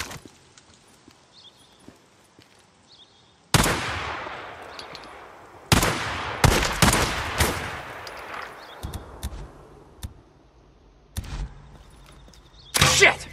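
Gunfire in the video game Days Gone: a sharp single shot, then a rapid cluster of loud cracks and a few later bursts, with echoing tails over a quiet background.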